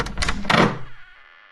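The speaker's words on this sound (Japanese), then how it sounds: "油の切れた錆びた長板の音を立てて小屋の木の扉を開けます。" A wooden shed door with rusty, unoiled hinges is pushed open in a single heavy scraping, creaking movement that swells briefly and fades into quiet, close and alone.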